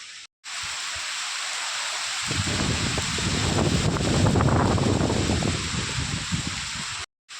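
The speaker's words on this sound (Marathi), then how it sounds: "खूप हवा आहे मित्रांनो." Strong storm wind roars and buffets the microphone, rising into a heavy rushing gust in the middle before easing, with brief dropouts at the start and end.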